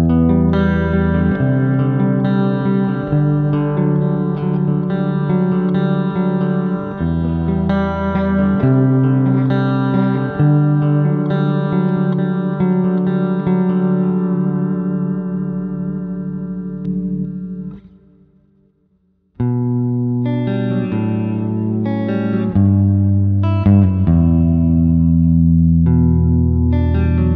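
Clean electric guitar on a Solar Type A seven-string with Floyd Rose tremolo plays sustained chords and picked notes, ringing with light chorus shimmer, pausing briefly before resuming.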